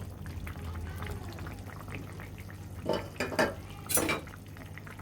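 Fried prawns tipped into a pot of thin curry with tender young stalks, giving a few sharp clatters of utensil against pan over a low, steady kitchen background, with no one talking.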